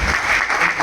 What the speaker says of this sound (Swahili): Makofi kwa ajili yenu.